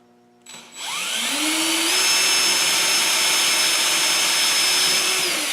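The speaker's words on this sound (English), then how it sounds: "So I'm going to drill the final hole with the 3/32." A power drill with a 3/32 bit bores a final hole for a Predator 212 mini bike governor bypass, spinning up within a second into a steady, loud, close whine that holds for several seconds.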